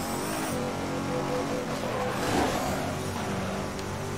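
Car engine revving and accelerating in the street-racing video game Midnight Club 3, a tuned Lexus, steady loud engine drone with rising throttle throughout, swelling slightly midway, no talk.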